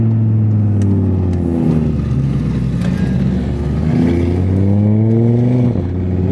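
A 500 hp Golf R swapped with an Audi RS3 engine accelerates hard through a U-turn, loud and close. The revs rise, drop and climb again, with no talking.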